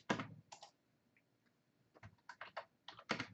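Bursts of keystrokes typing a command on a computer keyboard, in clusters with short pauses between, close and fairly loud, with no voice.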